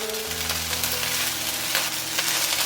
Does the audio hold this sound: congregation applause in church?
no